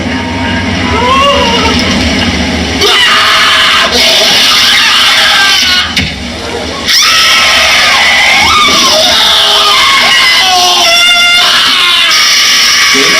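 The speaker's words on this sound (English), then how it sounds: "You can see the girl screams loudly, the taxi driver screams loudly." A girl and a taxi driver scream and yell loudly and continuously in an online video, with harsh raised voices that cut in and out over noisy background sound.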